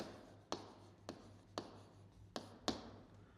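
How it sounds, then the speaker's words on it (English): A pen taps and scratches as notes are written by hand, about six sharp strikes at irregular intervals over a low background hum, faint and close, with no speech. "I'll just write that a bit better"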